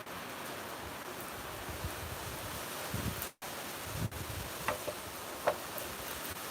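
An Antarctic rain squall hisses as a steady, soft wash of rain and wind noise, with a brief dropout and a few faint taps, quiet and without voices.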